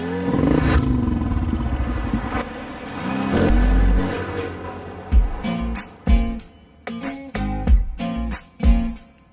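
A car drives and revs, its engine rising into a loud sustained drone before giving way to a series of sharp clattering bursts and thumps.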